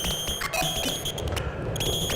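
Woggle bug electronic sound circuit inside the Electronium Designs No. 4 synthesizer gives off a steady, bright alarm-like tone with warbling chirps and buzzy overtones. It plays continuously at moderate loudness, with no voices.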